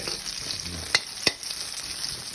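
Chilli and garlic fry in hot oil in a Thai home kitchen with a steady close sizzle, broken by two sharp scrapes of a spatula against the pan.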